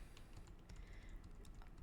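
A computer keyboard has a single key tapped repeatedly while working in 3D modeling software, making a quick, steady run of soft clicks. The clicks are faint and close, with no voice.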